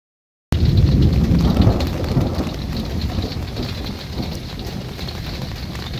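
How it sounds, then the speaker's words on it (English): Rain pours steadily in a night thunderstorm, with low rumbling thunder rolling underneath, loudest at the start and then settling into a constant hiss. "the storm's been rolling through for about the last hour"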